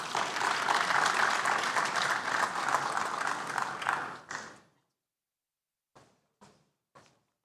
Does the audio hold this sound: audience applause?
yes